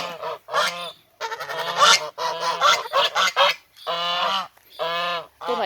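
Loud, close Chinese geese honking repeatedly in harsh, overlapping calls, with brief pauses between bursts.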